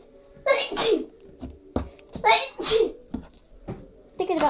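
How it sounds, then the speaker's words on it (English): A child sneezes loudly twice, each sneeze drawn out and close to the microphone, with short breaths and small sounds between them and another sneeze starting at the very end. "I'm gonna sneeze."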